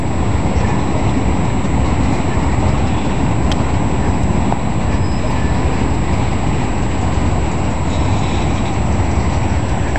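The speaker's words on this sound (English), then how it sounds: "I'm not going to get the whole train because it's cold, but he's pretty long" A long Norfolk Southern freight train with older locomotives rolls past slowly on a cold day, producing a loud, steady rumble and continuous wheel-on-rail noise from start to finish.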